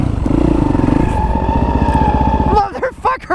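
A Yamaha WR450SM motorcycle holds a loud, steady engine drone during a rolling burnout for over two seconds, then the engine eases off while a voice breaks in near the end.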